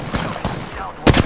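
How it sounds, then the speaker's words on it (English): Gunshots in Apex Legends, a few sharp cracks spaced apart and then a louder double burst at the end, brief and close. "Who's shooting at you?"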